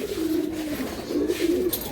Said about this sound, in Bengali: এই সাইডে কিছু কবুতর আছে মাশাআল্লাহ।